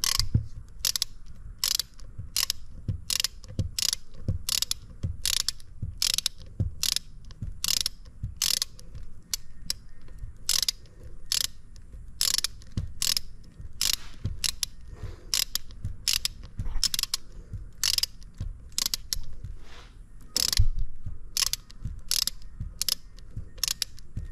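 A ratchet clicks steadily while tightening a Delphi 670/680 steering gearbox during rebuild reassembly, a rapid, even series of sharp metallic clicks close up, continuing without pause and with no talking.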